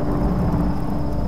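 Storm in the Tomb Raider video game: a steady, loud low rumble of thunder with a rain-like wash over it, continuous and enveloping for the whole moment, with no voices over it.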